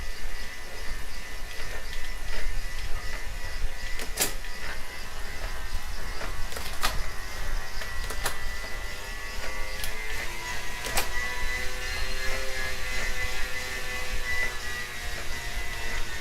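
A cycling turbo trainer whirs steadily under hard pedalling at high cadence, a constant broadband drone with a few brief sharp clicks and a faint wavering tone, close and alone without talk.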